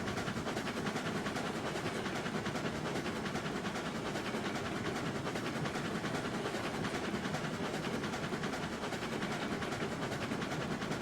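Steam locomotive, a Mogul hauling toward a coal mine in Railroads Online, getting underway with a steady, loud rumble of chuffing and rolling wheels that fills the whole stretch without any talk.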